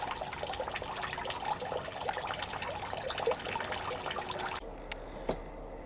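Water trickles and drains out of a boat engine's filters, a steady close dribbling and splashing that stops abruptly near the end, leaving quieter background.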